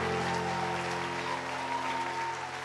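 A church congregation applauds steadily for the children, a continuous, fairly faint wash of clapping with a low hum underneath.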